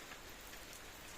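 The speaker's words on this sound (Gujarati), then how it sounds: "કાયમ વરસાદ આવે છે" Rain falls at Indreshwar Mahadev temple in Junagadh, a soft, steady patter and hiss that stays even and faint through the short moment, with no voices.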